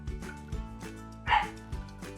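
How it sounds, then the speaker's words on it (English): An indoor pet dog barks at a cat on the stairs, giving a few short, fairly faint barks and yips in quick succession that sound somewhat distant. "I think she's barking at the cat on the stairs."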